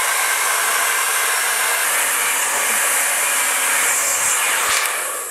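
A hair dryer blows close and loud on a wig in a steady, continuous whoosh that holds evenly before tapering slightly at the very end.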